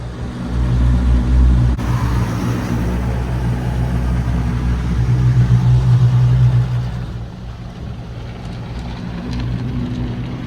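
Inside an automatic car wash, a high-pressure spray system drums against a car with a loud, steady rush over droning machinery hum. The noise swells midway and then eases off somewhat toward the end.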